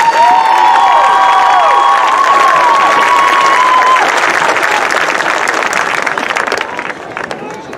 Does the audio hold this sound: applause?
yes